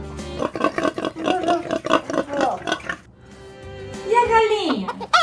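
A voice imitates a pig's oink with a short grunting, squealing sound right after a line of speech, close and fairly loud.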